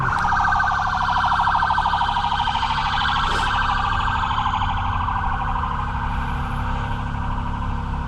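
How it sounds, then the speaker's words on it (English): A continuous siren wails steadily throughout, rising and falling in pitch at a constant loudness, with no voices over it. "Lots of sirens."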